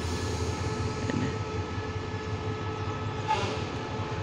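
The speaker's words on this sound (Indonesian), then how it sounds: "Proses langsir lokomotif untuk disambungkan ke kereta" ETS electric locomotive shunting to couple with passenger carriages at Padang Besar station, a steady low rumble of idling machinery with faint rail noise and a brief swell near the end, no talk.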